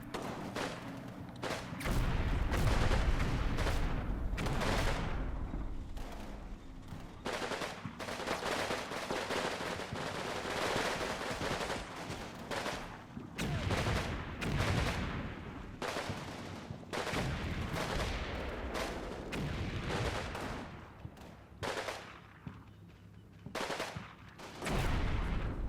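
Rifle fire and PPSh submachine gun bursts in the WWII game Combat Mission Red Thunder, dense rattling automatic fire and single shots going almost nonstop at close range.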